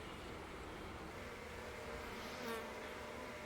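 Honey bees buzz around a small nucleus hive outdoors, a soft steady droning hum at low volume that swells slightly near the end, with no talking.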